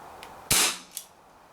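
A Borner 733 BB revolver fires at a can: one sharp, loud crack up close, then a brief faint tick about half a second later, with no talk.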